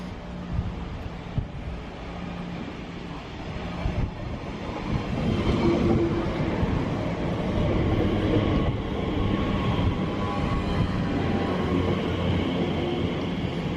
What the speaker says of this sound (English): we're going to have a little short ride now on TfL train